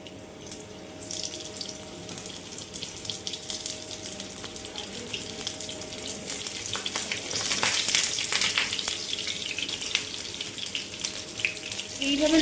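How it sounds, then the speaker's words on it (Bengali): Pointed gourds fry in hot mustard oil with a steady, dense crackling sizzle that runs continuously and grows slightly louder midway, with occasional louder pops near the end. "এবার আমি পটলগুলো ফ্রাই করে নেব।"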